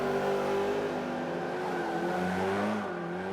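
Race car engines in the Forza 5 video game drone loudly and continuously, a layered, steady whine of several cars with slight pitch shifts near the end and no talking.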